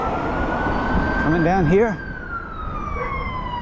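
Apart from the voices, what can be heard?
ambulance siren passing on street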